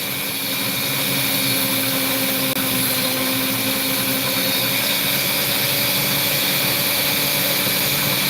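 Handheld Dremel rotary tool cutting into an opal, a steady, loud high-pitched whine with a continuous grinding hum that holds evenly throughout, no voices.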